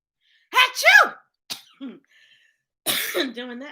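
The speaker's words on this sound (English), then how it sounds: "Doing that made me cough." A voice acts out a loud sneeze, followed by a couple of short coughs and a throaty, sputtering cough after a pause.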